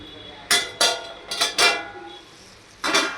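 Metal pot lid lifted off a pot of cooking bitter gourd in a home kitchen, giving several sharp clanks and scrapes in quick succession, then a final clatter after a short pause, close and fairly loud.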